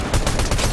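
Reaper Sniper Rifle firing in Fortnite, a loud, dense burst of gunfire-like cracks that blur together over less than a second, with no talk.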